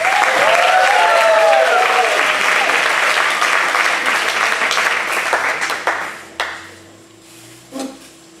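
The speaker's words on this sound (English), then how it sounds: "give a big Vaudevillingham welcome with lots of applause in here, hooting and hollering and cheering for Jesus" A theatre audience at a vaudeville variety show breaks into loud, dense applause and cheering that holds strong for several seconds, then thins and fades out, with a few scattered last claps and a shout.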